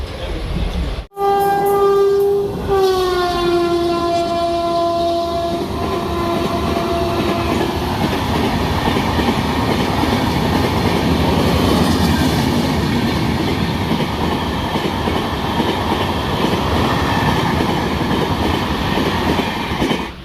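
An old double-decker passenger train in India sounds a loud, long horn blast near the start, then rolls on with a constant heavy rumble and rhythmic clacking of wheels on rails.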